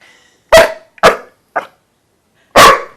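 A dog, a boxer mix, barks four times nearby, loud and sharp, in an uneven rhythm with short silences between barks.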